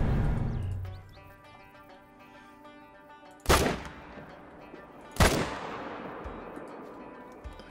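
Two sharp, loud rifle shots ring out about two seconds apart in the hunting video game Call of the Wild, each with a decaying echo over a quiet outdoor ambience.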